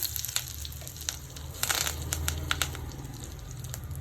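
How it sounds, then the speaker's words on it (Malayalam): Mustard seeds, dried red chilies and curry leaves hit hot oil in a pan for onion chutney, giving close, scattered crackling pops and a low sizzle over a few seconds, without speech. "സ്പൂൺ കടുക് ഇട്ടു മൂന്ന് വറ്റൽമുളക് ഇട്ട് കൊടുക്കാം കറിവേപ്പില ഇട്ട് കൊടുക്കാം"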